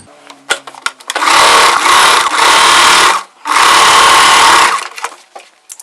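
A sewing machine runs in three loud, fast bursts, stitching the layered frills of a chudi close up, with brief pauses between runs and quiet handling noises around them.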